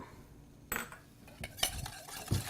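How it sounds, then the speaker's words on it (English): Egg yolks whisked with sugar in a bowl, giving a few quiet clinks and scrapes of a whisk against the bowl at close range. "I have 5 egg yolks right here that I'm just going to whisk up"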